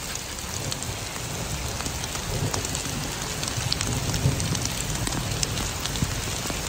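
Heavy rain at Brunnensee lake, a dense, loud and continuous hiss of drops pattering on surfaces, with no voices, steady from start to end.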